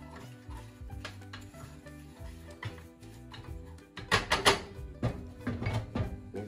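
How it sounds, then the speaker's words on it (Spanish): Sugar melting in a small frying pan while being stirred: soft scraping and clinking of a utensil against the pan over a low hum, growing louder with brisk scraping toward the end. "La azúcar la necesaria y le tenemos que ir moviendo."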